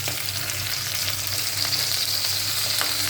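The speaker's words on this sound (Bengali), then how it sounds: "ঝোলটা কিন্তু একদম ফুটে গেছে ভালো করে" Fish curry broth boiling in a pan while making kajli fish with green chilli; a steady, continuous bubbling hiss holds at an even level for the whole stretch, with no voices.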